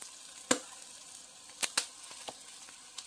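Lotus root simmers in water with soy sauce and corn syrup, a faint steady bubbling broken by scattered sharp little pops and crackles close by.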